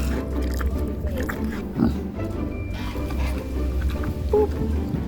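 Pigs at a small petting zoo hidden in central Amsterdam, low grunting and snuffling close by, with a couple of louder snorts over steady background rumble; a voice is briefly audible.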